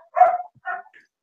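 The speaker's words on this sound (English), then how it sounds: "there's still some dog barking, but it's less loud" A dog barks twice in quick succession, two short clear woofs close by with a faint trailing yip, heard alone without talk.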